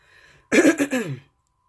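One harsh, close cough-like throat clearing from a chest cold, with a couple of quick bursts, surrounded by near silence.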